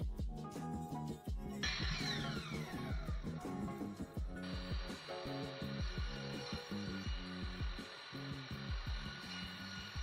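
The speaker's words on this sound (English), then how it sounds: "I'm cutting some strips and then I'm going to glue those to the inside of the top" A power tool cuts thin wood strips for a box lid in a workshop, a whining, continuous saw tone that rises partway through amid rhythmic mechanical clatter, close and steady throughout.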